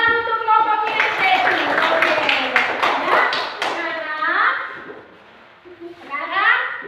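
Children in a classroom clap together for a group, a burst of quick hand claps amid excited kids' voices and chatter, followed by more talking and a voice.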